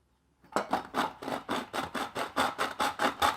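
An aluminium drink can is cut by hand to make a DIY alcohol stove, giving about a dozen quick, evenly spaced rasping strokes that are close and fairly quiet, with no talk.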